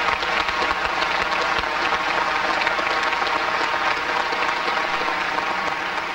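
Steady, dense applause from a large audience at a speaking event, continuous and loud throughout without a break.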